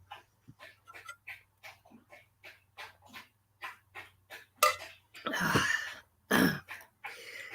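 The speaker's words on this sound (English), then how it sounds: "that's the dog getting a drink of water" Dog lapping water from a bowl in a kitchen, a rapid, rhythmic run of loud wet laps, close by, breaking into a few heavier splashy gulps near the end.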